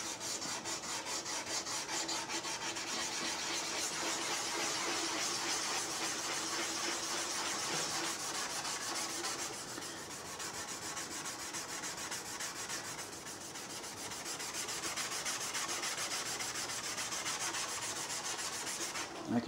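Steady abrasive rubbing on a weathered 2004 Nissan plastic headlight lens with a Wipe New restoration kit, a continuous close scratchy friction with slight rhythmic strokes throughout and no talking.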